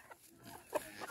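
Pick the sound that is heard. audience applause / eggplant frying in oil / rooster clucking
rooster clucking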